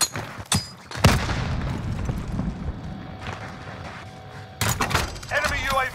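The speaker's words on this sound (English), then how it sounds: "Throw a grenade!" A heavy blast and sharp bursts of gunfire in Call of Duty: Modern Warfare Resurgence Quads hit loudly near the start, followed by a sustained rumbling roar and further sharp reports near the end.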